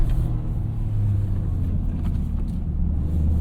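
A Toyota GR Corolla drives with a steady low engine rumble and road noise throughout, held fairly constant and close with no talking.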